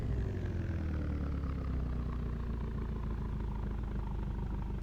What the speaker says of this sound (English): Sounds like a diesel, doesn't it?